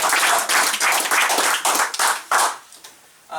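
A small crowd claps at a county Republican primary candidates announcement, loud close handclaps in uneven waves that thin out to scattered claps before a brief final burst.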